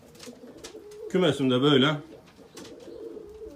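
Dutch maroon-beret play pigeons coo in a coop, one close, loud rolling coo rising and falling for about a second amid softer background cooing, with someone speaking briefly before and after.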